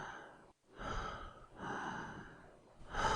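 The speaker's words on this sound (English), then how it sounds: "I can hear you breathing." Close, audible breathing: a few slow, rasping inhales and exhales, heavy and slightly labored, with no talking.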